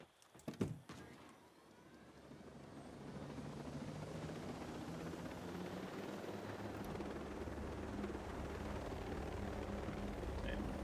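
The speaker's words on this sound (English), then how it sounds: "Where's my helicopter?" A helicopter in the video game Ghost Recon Breakpoint at night makes a steady, moderately loud rotor and engine drone that holds for about nine seconds, after a few sharp knocks at the start.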